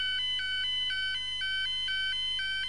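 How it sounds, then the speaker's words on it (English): A building fire alarm sounds continuously nearby, a loud electronic tone that steadily alternates between two pitches without pause. "An alarm in the immediate area will be a constant sound like this."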